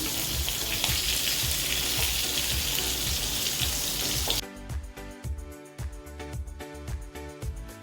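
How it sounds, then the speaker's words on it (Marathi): Catfish frying in a pan over a medium gas flame: loud, dense sizzling that fills the first half, then drops to a quieter crackle with clinks and light scraping. "आता आपण सर्व मच्छी फ्राय करायला टाकूया"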